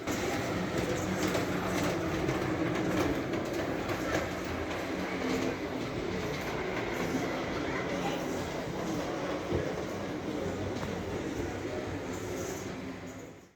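A steam tram locomotive built in 1900 rumbles steadily along the track with a continuous rattling roar and faint clatter, fading out at the end.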